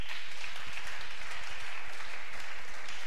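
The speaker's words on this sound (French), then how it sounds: "Nous pouvons encore acclamer le Seigneur." A church congregation applauding in praise of the Lord, steady, dense clapping from many hands that fills the whole stretch without breaks.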